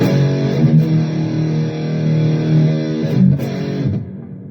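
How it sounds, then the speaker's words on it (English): Electric guitar played through a Donner Arena 2000 multi-effects pedal set to reverb, sustained chords ringing out with a long washy tail, loud and close, with no talking. "Plenty of reverb options available also. Let me see, 10 different reverbs. I'm using the whole reverb."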